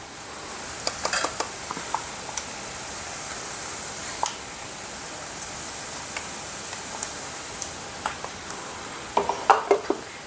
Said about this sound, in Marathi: आलं लसूण आणि खोबरं, थोडीशी कोथिंबीर, हे चांगलं तेलावर असं हे वाटण परतवायचं